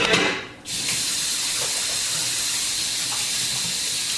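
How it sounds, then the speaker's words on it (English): Kitchen tap water runs steadily while hands are washed, a bright continuous hiss after a brief opening burst and short dip, loud and close throughout with no speech. "I'm just going to wash my hands"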